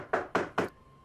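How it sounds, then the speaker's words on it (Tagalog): Three quick, evenly spaced knocks on a door in a Filipino comedy film, close and crisp, followed by near silence. "Hoy, Lala, may kumakatok."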